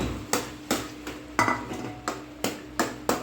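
Bread halwa is stirred in a pan at home, with a spoon striking and scraping the metal in a steady series of about nine close, sharp knocks, each followed by a short scrape.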